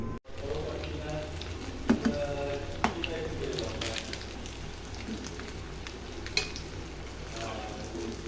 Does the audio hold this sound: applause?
no